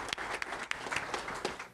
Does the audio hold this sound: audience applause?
yes